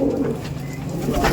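Pigeon cooing at a pigeon seller's stall, a single close, loud, low throaty coo lasting just over a second.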